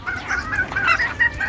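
Desi chickens cluck steadily and softly while feeding on chopped tree branches and leaves, the repeated clucks overlapping close by with no voices.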